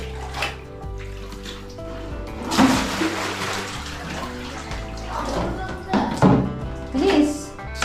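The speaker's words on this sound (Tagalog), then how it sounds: "Tapunin naman ang tubig." Water tipped out of a bucket outdoors splashes in uneven bursts, loudest around the middle and near the end, while people talk over it.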